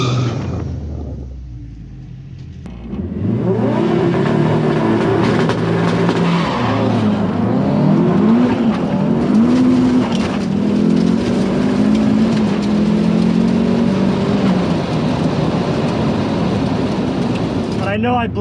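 A modified car races a Toyota Supra at a drag event: a low idle gives way to a loud, sustained engine roar with rising and falling revs, heard from a distance with crowd noise and voices mixed in.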